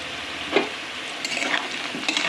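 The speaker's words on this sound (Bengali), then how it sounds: "পেঁয়াজের সাথে আমি আলুগুলোকেও ভেজে নিয়েছি" Potatoes and onions fry in a pan with a loud, continuous sizzle, broken by several scraping stirring strokes close by.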